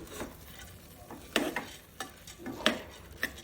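Rice and dal being stirred together in a pot for dal khichdi, a few soft scraping strokes and clinks of the spoon against the pan at uneven intervals, close and fairly quiet with a faint sizzle beneath.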